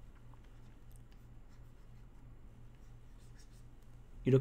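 Pencil scratching across paper while a figure sketch of a face, ribcage and pelvis is drawn, a soft steady scribbling texture, close and quiet, ending in a brief louder rub.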